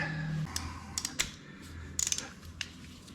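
Torque wrench tightening the top motor mounts on a 2001 Harley-Davidson Sportster, giving a string of sharp metallic clicks and ratcheting taps, some clustered in quick bursts, close by over a low hum.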